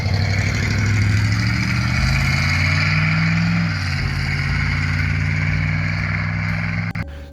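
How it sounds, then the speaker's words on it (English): A car running with its exhaust cut off and open headers, loud and raw, revving up and settling back in a few swells before rumbling at a rough idle, close by with no talking. "I cut the exhaust off and it was loud."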